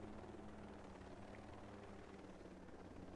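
A helicopter flies in the video game Ghost Recon Breakpoint, a steady rotor and engine roar holding constant throughout, very quiet overall and with no talk over it.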